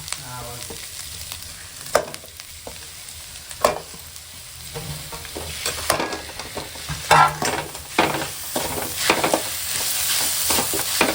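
Onions and tomatoes sautéing in a pan, a constant close sizzle with sharper bursts and scraping as the mixture is stirred.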